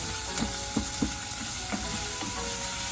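Onion fries in a pan for pan-fried chicken with rice pilaf, a constant close sizzle with a few soft knocks of stirring scattered through it.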